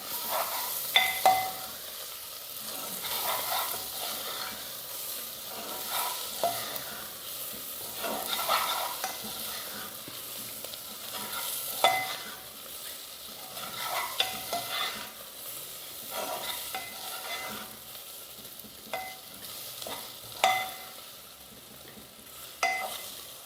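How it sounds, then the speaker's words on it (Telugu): Three eggs beaten by hand in a bowl, a fork or whisk tapping and scraping in quick irregular strokes, close and fairly quiet, with no talking. "ఒక 3 ఎగ్స్ అయితే తీసుకున్నానండి నేను. వీటిని ఒకసారి కలుపుకుందాం."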